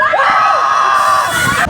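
People scream and shriek on a Viking swinging ship ride, loud overlapping voices rising and falling together for a couple of seconds.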